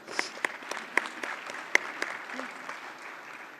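Audience applause at a formal ITS Diamond Jubilee 2025 ceremony, a spread of hand claps with a few sharp louder claps standing out, steady and fairly close, fading slightly toward the end.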